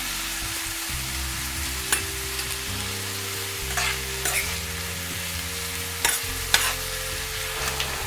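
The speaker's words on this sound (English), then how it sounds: "So while the onions are sauteing," Onions sautéing in a pan for a homemade mushroom and vegetable spaghetti sauce, with a steady soft sizzle and a few clinks of a utensil stirring, no talking.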